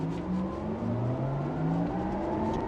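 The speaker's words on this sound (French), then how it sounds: "ça amplifie le son du moteur électrique" A synthetic electric-motor drone from a Porsche Taycan Turbo rises steadily in pitch as the car accelerates, a smooth layered hum heard from inside the cabin.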